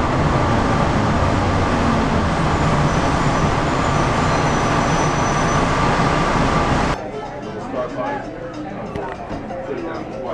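Rumbling interior of a moving train, a steady loud roar that suddenly drops to a quieter hum, with people talking over it.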